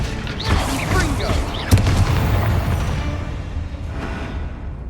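A Confringo fire spell bursts in Hogwarts Legacy, a sharp blast followed by a rumbling explosion and debris tail, while a voice speaks during the game action.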